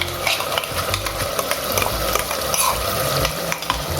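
Masala paste for a home-style chicken handi curry sautés in a pot, a dense continuous close sizzle with quick spoon scrapes and light metal clinks, no talking.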